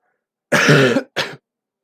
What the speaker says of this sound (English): That's why I've been not streaming, because of the cough.